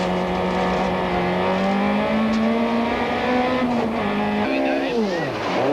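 A 1994 rally car driving hard on a forest stage, heard from inside the car: a loud continuous engine drone that holds steady, then dips and rises again as the driver lifts and accelerates, with road and tyre noise underneath.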